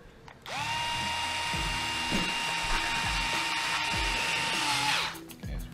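A power tool spins out the long center screws from a differential during reassembly of an Apex Boca bearing swap, a steady loud whirring drill-like whine lasting about five seconds with ratcheting clicks underneath, stopping abruptly near the end.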